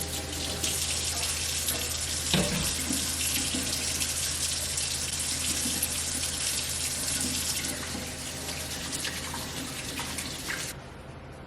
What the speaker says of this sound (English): Let me get my hands washed up